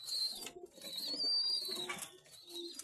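A group of hungry pigeons being fed, cooing in repeated soft, throaty bursts that overlap one another, close by and fairly quiet, with a few faint chirps mixed in.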